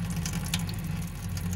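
Water runs steadily from a sink faucet aboard a 1984 Chris-Craft Catalina 381 boat, a soft continuous splash and hiss over a low pump-like hum, with no talking.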